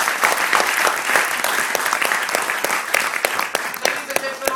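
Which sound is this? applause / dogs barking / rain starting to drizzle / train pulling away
applause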